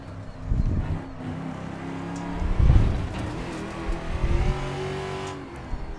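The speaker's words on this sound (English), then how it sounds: "Engine sounds a bit quiet again." A race car engine in the Assetto Corsa video game revs and shifts at moderate volume, swelling and easing repeatedly with brief tire squeals, the engine note sounding somewhat subdued.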